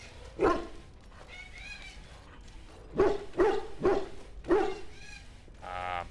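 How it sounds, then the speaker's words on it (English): A dog in the game Dragon Age Origins barks at a wall: one sharp bark, a pause, then a quick run of four barks, fairly close and clear over a quiet background. "is the dog barking at the wall for?"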